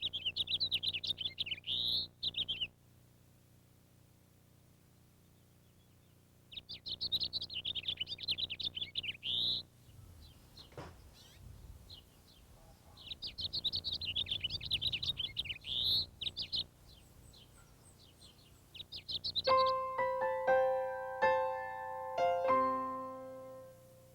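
House finches at a nest in a hanging pot of flowers give bursts of high, rapid twittering chirps in repeated bouts separated by short pauses, close and clear, with a few tonal notes near the end.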